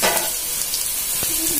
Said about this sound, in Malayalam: ഒന്ന് മൂക്കണ വരെ വഴറ്റി കൊടുക്കും